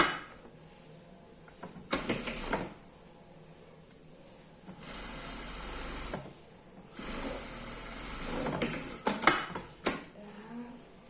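A sewing machine stitches a denim doll coat in short close runs of whirring needle motion, separated by quiet pauses and small handling clicks.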